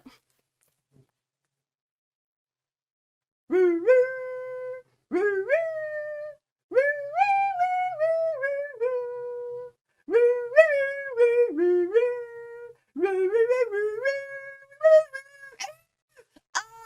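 A human voice imitates a dog howling in a series of drawn-out, wavering wails separated by short pauses, close and clear.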